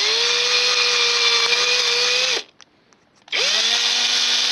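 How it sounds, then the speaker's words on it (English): A power drill bores a hole through a plastic bottle lid, whining loudly and steadily, stopping for about a second, then spinning back up and running on. "So we either get a drill and drill it through"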